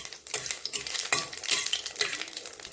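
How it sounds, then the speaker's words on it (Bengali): Cumin, bay leaf and dried chilli stirred in hot mustard oil in a kadai: steady close sizzling with repeated scraping strokes of a spoon, fairly loud and continuous, no talking. "এখন এটা একটু ভালো করে নেড়ে চেড়ে দেবো।"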